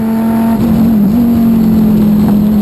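Race cars in the Supercar Challenge at Slovakiaring, including a Corvette, roar past with a loud, steady engine drone that rises and dips in pitch as they go through.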